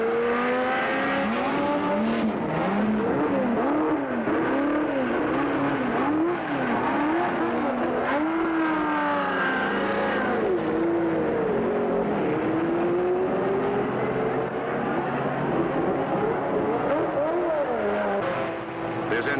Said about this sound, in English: with the roar of the powerful engines